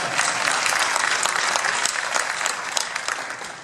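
Audience applause at an Intel technology keynote, dense and sustained clapping from a large crowd lasting several seconds at an even, fairly loud level.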